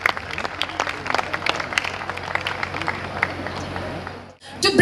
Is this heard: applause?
yes